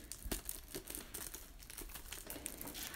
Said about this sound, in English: Now what you need to do is unwrap the plastic